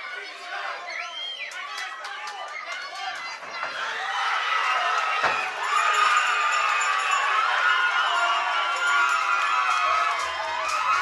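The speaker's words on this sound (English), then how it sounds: "Crowd reacting to what was essentially a stumble" Arena crowd at a kickboxing fight in Sheffield roaring and cheering, a dense continuous swell of voices and shouts that grows louder midway and stays loud to the end.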